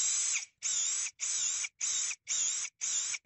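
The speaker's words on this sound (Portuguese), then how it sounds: "Vou fazer 2 pré-furos aqui." A power drill fitted with a 3.5 mm bit bores pilot holes, whirring loudly in six even, close bursts of about half a second, each cut by a short pause.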